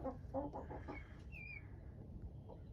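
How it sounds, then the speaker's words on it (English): Mother hen with five feathered chicks learning to roost, clucking in short soft bursts near the start, with a higher chirp partway through over steady background noise. "There's mommy chicken and her fabulous 5 chicks, fully feathered, learning to roost."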